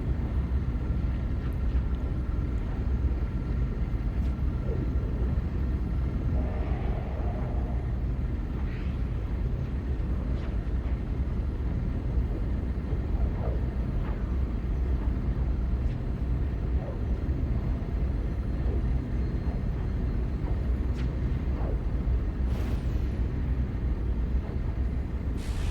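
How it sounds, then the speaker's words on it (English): Loud spacecraft engines in the No Man's Sky video game produce a steady, low rumbling drone that continues unbroken throughout, with faint higher tones occasionally flickering above it. "Some loud engines."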